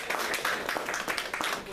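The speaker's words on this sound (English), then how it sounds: "let's do a round of applause for Maurice Harris" An audience at a Veterans Day event claps for Maurice Harris, a brief burst of continuous applause with voices mixed in underneath.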